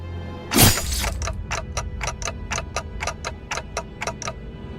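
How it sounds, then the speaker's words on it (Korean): A clock ticks steadily in the video game Limbus Company, after a sharp crash, a regular series of crisp, close ticks that speed up slightly, with no talk. "째깍대는 소리가 빨라지는 걸 보니"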